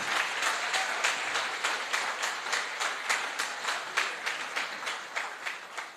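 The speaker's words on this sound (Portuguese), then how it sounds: "igreja, dá uma salva de palmas a eles" A church congregation claps together in a steady rhythmic applause, evenly spaced claps filling the room at moderate loudness with no voices over it.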